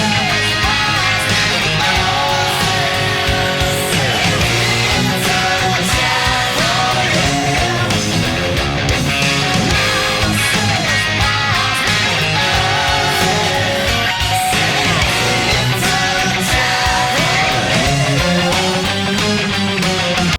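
Electric guitar plays the third chorus of a song, built on the main riff with slight harmonic variations, a dense, loud, continuous full-band-style texture with no talking.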